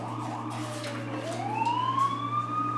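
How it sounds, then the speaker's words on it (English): An ambulance siren passing outside, wailing and then rising into a sweeping tone, heard over a steady low hum, moderately distant and growing louder toward the end. "Maybe you can hear the ambulance."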